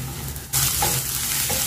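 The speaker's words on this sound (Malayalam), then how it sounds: "നമുക്ക് ഇതിലേക്ക് ജിഞ്ചർ ഗാർലിക് പേസ്റ്റ് കൂടെ ചേർത്ത് കൊടുക്കാം." Ginger garlic paste hitting hot oil with softened onions in a pan, a steady loud sizzle of frying with a sharp burst as it lands, then scraping stirring strokes close by.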